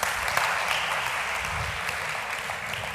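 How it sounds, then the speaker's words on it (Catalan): A workshop audience applauds steadily at moderate volume throughout, a dense wash of many hands clapping with no clear gaps and faint background murmur. "Un aplaudiment per ells, sí, un aplaudiment."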